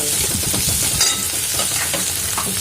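Green chilies and onion fry in a pan, a close, steady sizzle with soft crackles and the scrape of stirring, with no talking.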